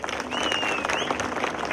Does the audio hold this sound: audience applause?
yes